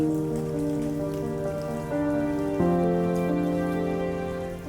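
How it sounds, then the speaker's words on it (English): Heavy rain pours outside a guest house overlooking the loch at Oban, a steady dense hiss that runs unbroken from start to finish, with a sustained tonal drone underneath. "when I got outside it was still pouring with rain"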